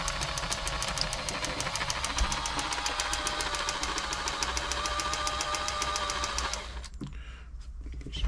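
A Bernette b35 sewing machine stitches on a long stitch, its rapid, even mechanical chatter running close and continuous for about six and a half seconds before stopping, leaving a quiet hum.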